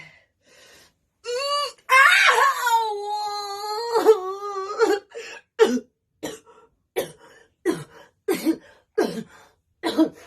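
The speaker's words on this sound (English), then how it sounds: "Why am I coughing?" A strained, whimpering cry is followed by a run of short, sharp coughs, several in a row with brief pauses, close and clear.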